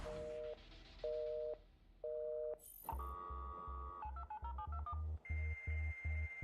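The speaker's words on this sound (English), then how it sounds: "you probably had to explain why your home phone always had a busy signal" A telephone busy signal sounds three times in even on-off pulses, followed by a run of dialing tones and electronic beeps.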